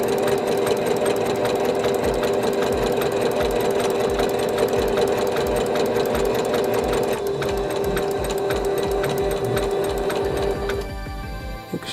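A sewing machine runs at a steady, loud, continuous whir as it hems the bottom of a tunic, stitching evenly for several seconds before slowing and stopping near the end.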